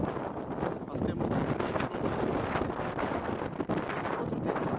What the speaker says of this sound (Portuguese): Aqui, essa tempestade aqui de vento e de areia ao mesmo tempo.